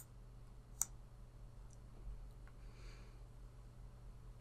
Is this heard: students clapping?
no